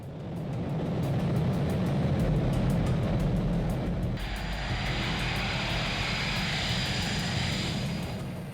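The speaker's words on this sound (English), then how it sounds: "At 7:11 a.m., Avianca Flight 203 began taxiing down the runway." Boeing 727 airliner taxiing on a runway, a loud steady engine roar with a low rumble, shifting partway through to a brighter, hissing jet whine, continuous throughout with no talk.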